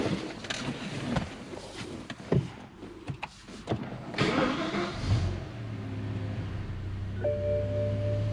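A BMW E60 M5 with an E85 flex-fuel conversion cranks and fires up, the engine catching with a burst of revs before settling into a steady idle, close by and without speech.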